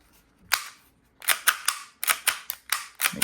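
Action Army AAP-01 airsoft pistol, freshly fitted with a rotary hop-up, test-fired in a run of sharp cracking shots: one lone pop, a pause, then a rapid string of about ten snappy reports, close and loud.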